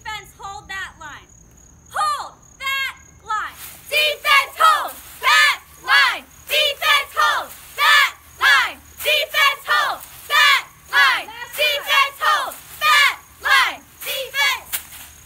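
A student section at a Bulldogs game chants in loud, rhythmic bursts, a dense crowd of voices shouting in regular repeated beats that start ragged and settle into a steady cadence.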